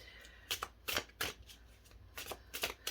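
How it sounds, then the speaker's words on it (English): Tarot cards being shuffled in several quick bursts of crisp riffling flicks, close and quiet, with short pauses between the bursts. "Do a few more shuffles and then we'll begin."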